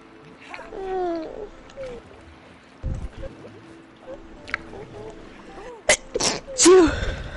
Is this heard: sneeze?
yes